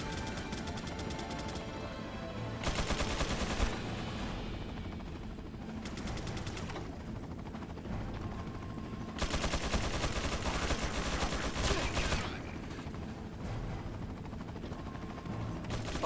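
Dense, sustained bursts of rapid gunfire from the video game Resident Evil, with louder volleys alternating with steadier shooting and a constant background of game effects.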